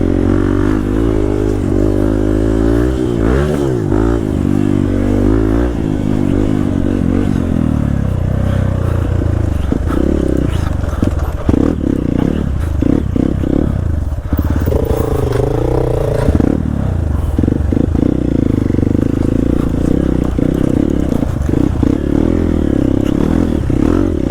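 A motorcycle labours up a muddy off-road hill in the rain at Mathamala, its engine droning loud and close with rising and falling revs and clattering, scraping wheel noise throughout.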